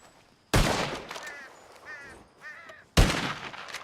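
Two loud, sharp gunshot blasts in a video game, each followed by a decaying tail, with faint bird calls and quacks between them.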